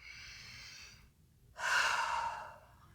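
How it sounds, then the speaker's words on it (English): A full breath cycle through a burped chest seal: a steady airy inhale for about a second, a brief pause, then a louder, stronger exhale, close and alone with no talk. "allow for a full breath cycle, which means a full inhale"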